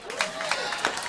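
A comedy-show audience gives a short round of applause, a busy scatter of claps with a few louder bursts and some crowd murmur underneath.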